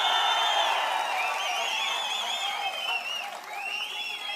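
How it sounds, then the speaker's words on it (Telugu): A crowd at a political rally applauds loudly and continuously, a dense wash of clapping with scattered high cries and whistles that eases slightly toward the end. "గట్టిగా చప్పట్లు కూడా చెప్పండి"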